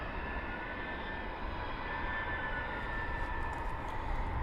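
A steady, broadband roar of an airliner at Luton Airport in a crosswind, holding level throughout with no voices, like a plane passing at moderate distance.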